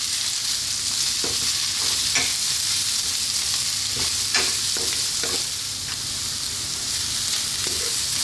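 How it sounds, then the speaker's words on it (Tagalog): Onion and carrots fry steadily in a hot pan for a vegetable spring roll filling, with a constant dense sizzle and several short scraping stirs of a utensil against the pan. "Now we will add our onion. Carrots. And we will cook this for about 2 minutes."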